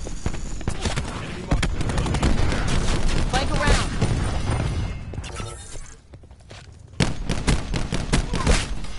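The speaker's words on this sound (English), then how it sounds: "Throwing cluster grenade." A cluster grenade thrown in Call of Duty: Black Ops explodes amid a dense, loud stretch of game gunfire and blasts, with a brief lull before another burst of shots.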